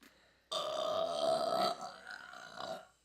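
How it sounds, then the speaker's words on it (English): A single long, loud burp, rumbling and throaty, that tails off with a smaller second swell near its end, standing alone without talk. "So, I've got to burp real quick."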